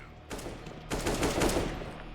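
Counter-Strike pistol and rifle fire: a burst of shots, then a denser rattling volley of close gunfire that carries on to the end, with no talking over it.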